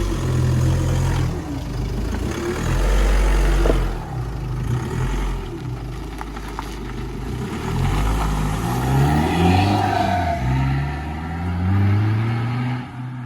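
A car engine runs steadily throughout while the vehicle is reversed, its low rumble rising and falling with gentle revving, close and continuous with no talk.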